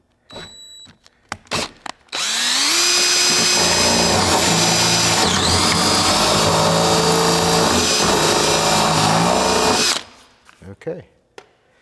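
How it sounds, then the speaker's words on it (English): A power drill fitted with dull drill bits whines loud and steady for about eight seconds, bracketed by a few sharp clicks and knocks before and after. "These are not very sharp drill bits. they need to be sharpened, but we'll see if they work."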